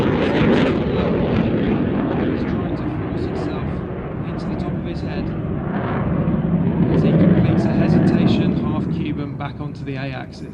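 A roaring airplane sweeps past during a knife-edge manoeuvre at an air display, its engine noise swelling and fading under steady commentary.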